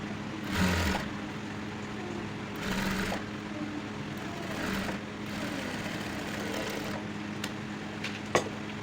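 Sewing machine stitching the side seam of a fish cut dress, a steady mechanical whir running throughout with brief louder bursts, close and without talk.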